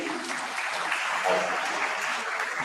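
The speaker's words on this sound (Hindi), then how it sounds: "तालियां बजाओ बच्चे के लिए" Audience applauding a student's speech at a Hindi school debate competition for classes 9 and 10: steady, dense clapping from a room of listeners holds evenly throughout at moderate level.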